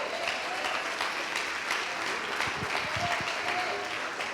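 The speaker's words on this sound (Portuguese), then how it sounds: "Vocês podem aplaudir a palavra de Deus?" A church congregation breaks into sustained applause, an even wash of clapping from many hands that stays steady for several seconds, with a little speech faintly underneath.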